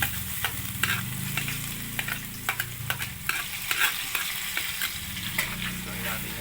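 Garlic and ginger sauté in a pan with a loud, continuous sizzle, broken by frequent sharp clicks and scrapes of a utensil stirring.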